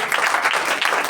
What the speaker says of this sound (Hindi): जोरदार ताली प्रभु के लिए।